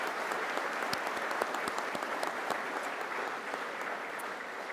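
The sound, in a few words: applause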